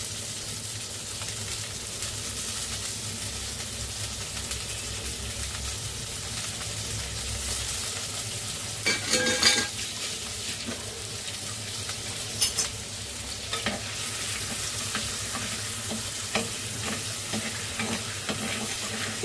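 A green paste of chili, ginger, garlic and coriander sizzles in a clay pot with a constant close hiss, while a spoon stirs and scrapes in a few louder bursts midway, no voices.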